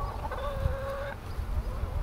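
Black Copper Marans chickens cluck in a barnyard with goats, a steady run of soft, close clucks and a longer drawn-out call over low rumbling background noise.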